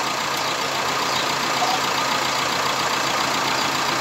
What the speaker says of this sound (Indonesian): udah turbonya pun udah main